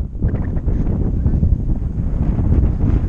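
Strong outdoor wind buffeting a microphone, a loud, continuous low rumble with gusty swells throughout and no clear speech.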